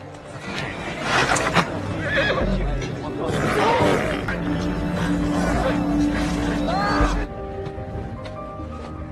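A horse neighs and whinnies loudly amid a tense action film scene, its cries rising over dense rumbling effects and movement, with hooves faintly clopping before the sound drops away near the end.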